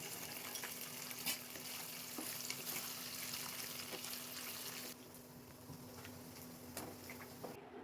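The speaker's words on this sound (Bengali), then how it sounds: "আলু আর পনির ভাজা হয়ে গেছে" Potato and paneer pieces frying in oil give a steady, close sizzle with occasional stirring clinks and a faint water-like hiss, running continuously without any talk and softening slightly partway through.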